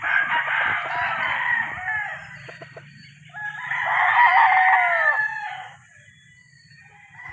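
Boston White gamefowl roosters at a gamefarm crow loudly at close range in two long, drawn-out calls, separated by a brief pause, with a low mechanical hum beneath.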